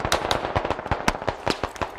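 Rapid burst of mortar explosions in the military shooter game Squad, a dense run of sharp, loud cracking blasts firing irregularly one after another with almost no gap between them.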